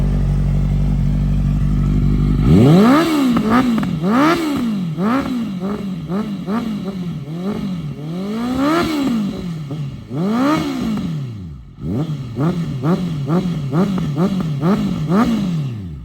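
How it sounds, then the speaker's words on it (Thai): A Honda CB650 four-cylinder motorcycle starts and is revved repeatedly nearby, its smooth engine note rising and falling in loud, rhythmic blips with a short dip partway through. "ฟังเสียงเลยโอ้ เสียงก็นุ่ม สไตล์สี่สูบอ่ะ"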